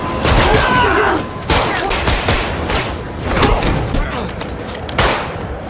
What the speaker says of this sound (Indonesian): Ini aksi tembak-tembakan mereka.